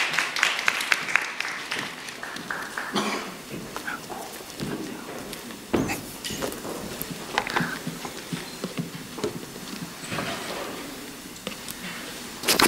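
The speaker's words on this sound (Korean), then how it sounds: "큰 박수로 맞아주세요." Audience at a university research presentation event clapping to welcome a materials science presenter, uneven clapping that thins out over time with some scattered sharper claps and a brief rise near the end.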